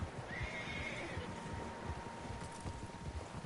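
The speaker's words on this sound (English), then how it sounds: "Horses, quite a few of them." Horses in the video game Red Dead Redemption 2 give a drawn-out whinny early on, heard over a busy outdoor bed of hoof clatter and rustling with faint ambient tones.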